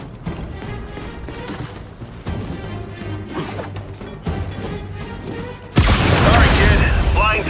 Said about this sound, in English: keep your head down and blind toss the grenade